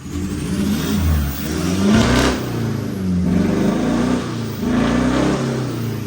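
A Tata diesel engine with faulty injectors runs rough, shaking and surging, its uneven low chugging rising in a few revving swells over about six seconds.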